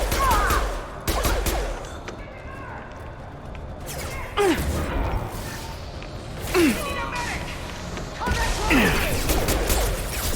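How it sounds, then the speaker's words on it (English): Gunfire from a Mass Effect firefight, with bursts of shots and sharp impacts spread across the scene amid game noise, while voices shout over the battle. "We've been spotted! Go get it! Under heavy fire!"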